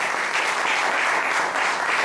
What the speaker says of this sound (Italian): un applauso a Marzia